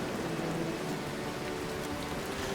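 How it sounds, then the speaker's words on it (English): Heavy storm rain pours down in a steady, dense hiss with a low rumbling undertone, continuous and even throughout, no voices. "The storm rages on, showing no sign of subsiding."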